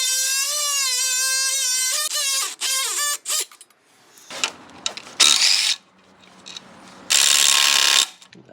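Multi-tool worked on a tight bolt on the water pump of an abandoned motorhome with a Mopar 360 engine, clicking in short bursts of ratcheting, then scraping metal taps and a few louder rasps, close by with no talk.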